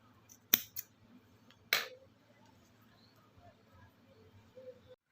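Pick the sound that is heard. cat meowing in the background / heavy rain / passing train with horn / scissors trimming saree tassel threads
scissors trimming saree tassel threads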